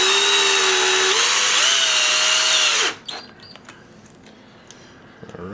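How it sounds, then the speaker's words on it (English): A power drill drives a screw into a tricopter frame, whining loud and steady with a pitch rise midway, then stopping abruptly, followed by faint clicks and rustling. "I'll use this drill to do it instead of cranking it by hand."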